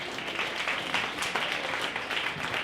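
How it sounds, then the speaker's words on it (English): A speaking-panel audience claps together in a steady, dense round of applause, close and even for a few seconds with no voices over it. "Round of applause for her too."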